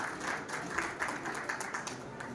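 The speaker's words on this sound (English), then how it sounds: "clap for them." Parents clap for students at a school graduation ceremony, a modest round of applause with audible individual claps rising and falling, fairly light and somewhat distant.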